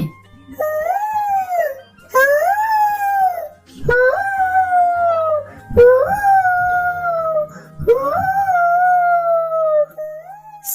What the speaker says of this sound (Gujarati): શિયાળનો અવાજ સાંભળીને ખેતરનો માલિક જાગી જાય છે